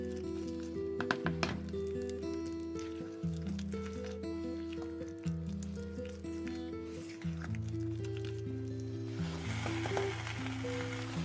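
A shami kebab mixture sizzles and hisses steadily in a pan as its moisture cooks off, with occasional stirring scrapes and tonal music playing underneath.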